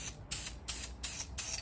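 Spray paint is sprayed onto a G-body car seat, Monte Carlo SS, Regal or Cutlass, in five short, evenly spaced hissing bursts, close and fairly quiet, with no talk.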